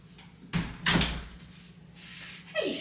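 A household door is handled indoors, giving a few close thumps and knocks with rattling and creaking in between, with no talking.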